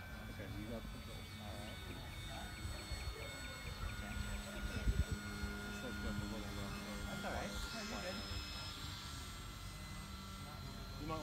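An RC model airplane being flown at a fun fly drones steadily as it passes overhead, a continuous motor whine running throughout with people talking in the background.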